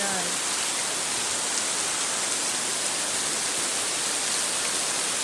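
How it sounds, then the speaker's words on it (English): Steady, dense rain hisses continuously, a broad even wash of falling water with no voices or other distinct sounds. "So it's raining"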